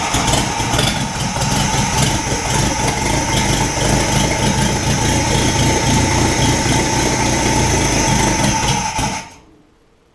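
A Ford GPW jeep engine idles close by with a steady, loud rumbling throb for about nine seconds before shutting off.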